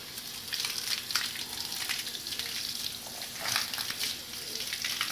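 Water sprays onto a dog during a bath, a close, hissing, splashy stream that keeps going and swells in bursts, with no talking.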